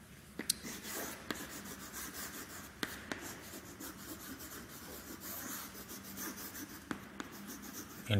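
A sentence being written on a board during an English grammar lesson, with soft continuous scratching and rubbing strokes punctuated by occasional sharp taps, fairly quiet and without talk.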